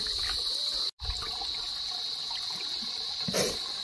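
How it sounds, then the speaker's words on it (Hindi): Spring water flows down a mountainside through trees in the Khushab mountains near pipes, a loud steady rushing wash with one brief dropout. "वो ऊपर से पानी आ रहा है चश्मा इस दरमियान से"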